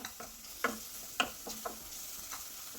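A spoon stirs turmeric and chili powder in a pan for a Kerala-style Malan fish curry, giving faint, scattered scraping taps against the pan over a soft background hiss, with no voices.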